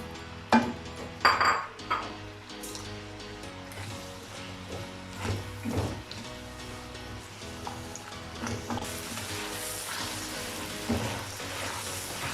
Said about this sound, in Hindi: अब इसमें टमाटर डाल देंगे और 3 से 4 मिनट के लिए इसे फ्राई कर लेंगे।